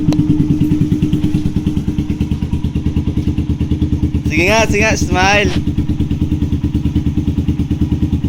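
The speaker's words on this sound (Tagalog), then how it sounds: "Sakay si baby sa motor." A Raider 150 motorcycle engine idles close by with a steady, pulsing mid-low putter, while a person speaks briefly over it partway through.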